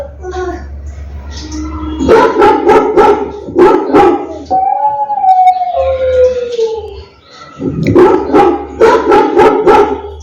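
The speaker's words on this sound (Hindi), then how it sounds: "कुत्ते की आवाज निकालो।" A smart speaker plays a recorded dog barking, loud bursts of several barks in two clusters separated by a siren-like wail.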